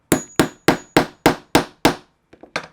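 A hammer strikes a rivet setter seated on a work board, landing seven evenly spaced, sharp, ringing blows close by, followed by a few lighter, quicker taps.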